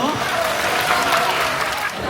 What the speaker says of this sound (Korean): 학생들한테 아. 큰 박수 한번 부탁드릴게요.